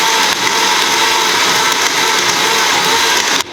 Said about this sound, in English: All right, we're gonna blend this up again one more time.